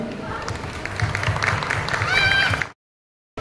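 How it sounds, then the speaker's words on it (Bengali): An audience at a Durga Puja inauguration claps in a burst of applause mixed with crowd noise and a voice over the top, then the sound cuts off abruptly into silence. "পুনরায় একটি জোরে হাততালি"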